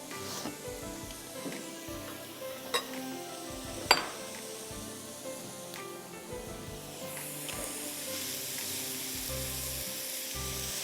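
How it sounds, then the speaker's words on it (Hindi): Grated carrots sauté in ghee for gajar halwa, giving a steady, moderate sizzle with occasional sharp clicks of a utensil against the pan, continuing without talk. "कलर चेंज होगा गाजर का, पहले आप इसको अच्छी तरह घी में सौटे करिए"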